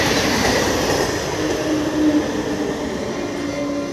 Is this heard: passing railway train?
yes